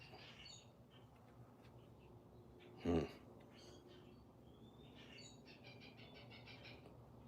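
A bird calls outdoors from some distance, with short high chirps and a thin rising whistle heard over a steady low background hum. One brief loud knock or thump sits near the middle of the clip.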